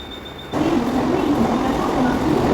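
A Mumbai suburban train pulls into Titwala station and its loud rumble starts suddenly, then carries on steadily with a faint tonal whine from the wheels.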